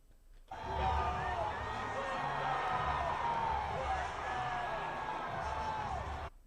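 Packed NFL stadium roaring as a player runs out chanting, a sustained loud wall of cheering and whoops that swells in, holds steady, then cuts off, with a voice shouting over the crowd.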